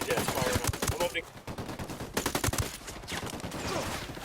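Gunfire in Ghost Recon Wildlands as cartel reinforcements attack, rapid automatic bursts and scattered shots at close range, loud and rhythmic with brief pauses between volleys, with faint talk in the background.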